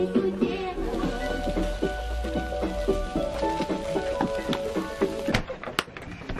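Rain falling outside a house where shashlik is being grilled, a steady patter of drops on surfaces with irregular knocks and taps, close and continuous.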